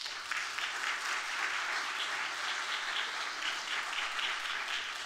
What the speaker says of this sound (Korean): 백창호 목사님 나오실 때 우리 박수로 환영하겠습니다.